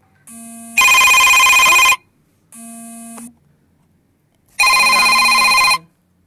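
Telephone ringing with an incoming call, repeated electronic ring bursts separated by short pauses, loud and close with nothing else audible.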